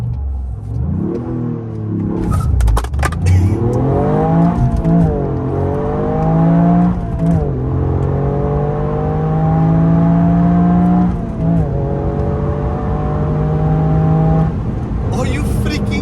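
Toyota Yaris GR in sport mode with traction control fully off launching hard: the engine revs up, then pulls through several rising gears with brief shift dips, loud and close from inside the cabin, with no talk.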